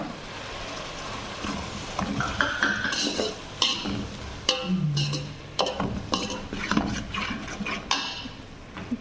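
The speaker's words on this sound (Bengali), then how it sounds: "আদা রসুন কিছুক্ষণ ভাইজা নিছি" Ginger and garlic paste frying in a pan while a spoon stirs it, with steady sizzling and repeated scraping and clinking strokes against the metal, close and fairly quiet.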